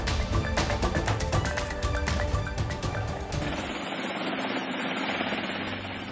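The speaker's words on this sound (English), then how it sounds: "that is video of a helicopter taking off from a Spokane Valley man's private property" A helicopter roars close by, taking off from private property, with fast, thumping rotor beats that blur into a steady, loud engine rush.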